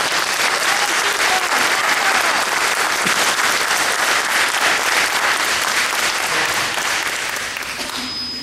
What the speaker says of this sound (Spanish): el aplauso para todos ellos.